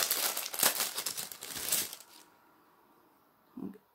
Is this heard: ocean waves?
no